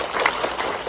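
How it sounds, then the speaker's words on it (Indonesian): A brief moment of audience applause for Mas Arya and Mas Daril, a diffuse patter of clapping from a small crowd that fills the whole short moment at an even level. "Tepuk tangan ya untuk mereka"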